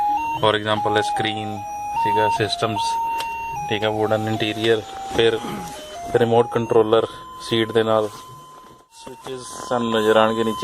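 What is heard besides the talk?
car seat belt warning tone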